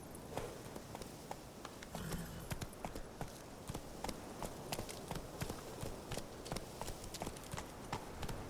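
Horse hooves in The Witcher 3 video game beat a steady, brisk clip-clop of a galloping mount, close and continuous, with faint game ambience underneath.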